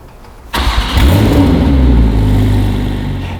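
A full carbon Porsche 935 with a 3.2 litre twin-turbocharged flat six fires up abruptly and revs hard, then settles into a loud, rumbling, throbbing idle, close and without talk.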